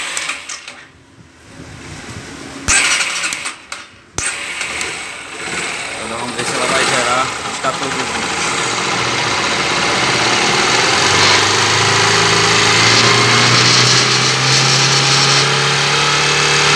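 A 2013 Yamaha Factor YBR 125 motorcycle with a charging-system fault and a replacement Magnetron rectifier is switched on and starts. Its engine builds into a loud, steady, close hum that rises gradually in pitch, while voices can be heard early on.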